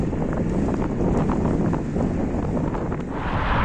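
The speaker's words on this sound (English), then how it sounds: "I just wanted to keep complaining how mentally draining this headwind is" A strong headwind roars across the microphone while riding a fixed gear bike, a loud continuous buffeting rush that stays steady throughout with no talking.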